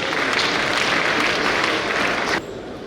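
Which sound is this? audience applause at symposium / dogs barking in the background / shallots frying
audience applause at symposium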